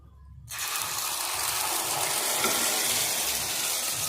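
Egg omelette batter hits hot oil with a sudden loud hiss, then settles into a steady, close sizzle that fries on evenly.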